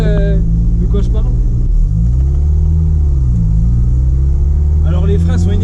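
An Austin Mini drives along with a steady, loud engine drone and road rumble filling the cabin, the pitch rising and dipping slightly as it runs, while someone talks over it.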